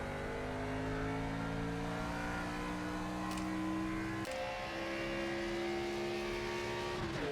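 A NASCAR race car engine in the NASCAR 25 video game holds a steady droning whine that climbs gradually, then jumps sharply with a gear change and keeps climbing, with no talk over it.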